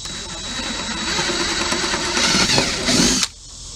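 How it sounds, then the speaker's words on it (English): A power drill boring a pilot hole into a wooden chicken nest box, a steady high whine that builds and strains near the end, then cuts off abruptly. "First thing I'm going to do is drill me a pilot hole"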